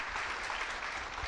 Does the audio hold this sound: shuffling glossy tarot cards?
no